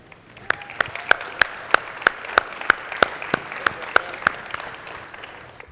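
Audience applause at the LA Auto Show 2021 debut of the Mullen Five electric car comes as a series of sharp, evenly spaced claps, loud and close, about three per second, with no voices over them.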